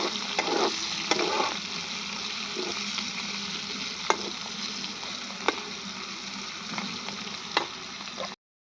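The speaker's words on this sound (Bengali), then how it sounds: "তো এখন আমি করলাটা ভাজছি।" Bitter gourd (karela) slices fry steadily in a pan with oil, a constant close sizzle broken by a few sharp pops and crackles, with no talking over it.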